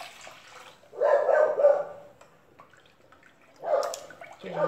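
A litre of cold water splashes into a cooking pot in two pouring bursts, first a longer steady gush and then a shorter one, close and fairly loud, with quiet pauses between.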